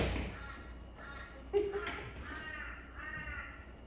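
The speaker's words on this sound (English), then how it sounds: "just waiting for the crows to come back" Crows caw repeatedly outside a room in Broome, giving a series of harsh, nasal calls of moderate loudness over a steady background hum.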